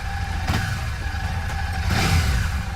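A made-in-India motorcycle engine runs with a mid-pitched throb and swells briefly in a couple of short revs, heard at moderate distance over background rumble.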